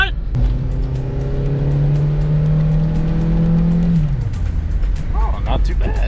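A 1991 Toyota Corolla engine running while driving, a low steady drone that rises slightly in pitch and then drops off, with tire and road noise and people talking in the car.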